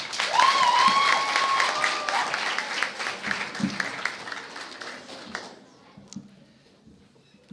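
Audience applause at a school cultural day celebration, a loud spread of clapping that fades away after about five seconds, leaving only a few faint sounds behind.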